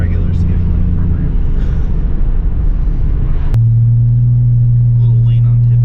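A turbocharged Toyota Supra engine running steadily during tuning while slightly lean, a loud constant rumble that drops to a lower, smoother drone partway through, with voices talking over it.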